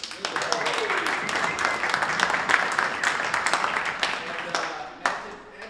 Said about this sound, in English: give a round of applause to Andre for all of the work he's done in setting up this space